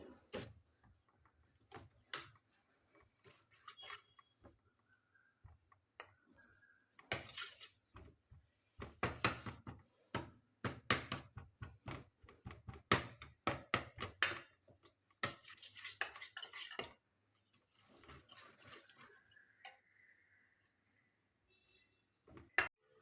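A spoon mixing 80 ml of curd into a biryani masala paste in a bowl, a long run of soft scraping, rubbing and tapping strokes, close and fairly quiet, with brief pauses between bursts.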